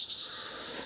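A dense chorus of many small frogs, a steady, high-pitched trilling drone that sounds close and fairly loud, with no talking.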